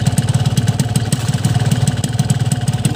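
A two-stroke motorcycle engine running on CTX 2T two-stroke oil idles steadily up close, with a crisp, rapid, even putter and no other sounds.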